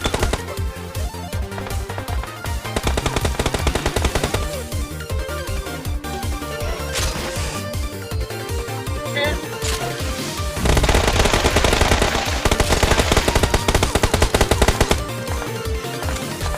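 Rapid automatic gunfire from the mobile battle royale game PUBG Mobile, loud dense bursts of shots rattling almost continuously, growing heavier partway through.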